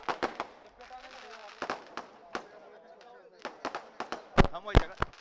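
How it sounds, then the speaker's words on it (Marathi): Sharp firecracker bangs burst repeatedly and irregularly at a political public rally, some loud and close, while a voice speaks between them. "फटाके फोडणाऱ्यांना नम्र विनंती आहे की फटाके थांबवा"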